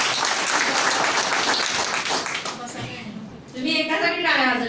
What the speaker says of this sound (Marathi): तुम्ही एकासाठी टाळ्या वाजवल्यात ना